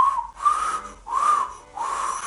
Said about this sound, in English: I can't whistle for shit